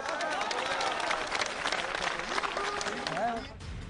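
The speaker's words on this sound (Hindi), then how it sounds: "ऐसे हर बयान पर तालियां बज रही थी।" A protest crowd applauds in a dense, steady burst of clapping that fades near the end, with a voice heard over it.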